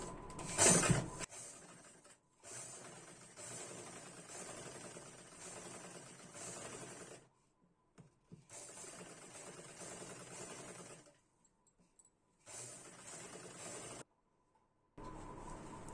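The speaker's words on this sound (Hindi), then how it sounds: "आगे के गले में हमें बैठी सिलाई लगानी है। बिल्कुल किनारे किनारे पर।" A sewing machine stitches along the front neckline edge of a lined blouse in steady whirring bursts, stopping and restarting several times with short pauses between runs.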